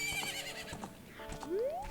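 Young Epona, the foal horse in the video game The Legend of Zelda: Ocarina of Time, gives a short high neigh and whinny over soft clip-clop steps and game music.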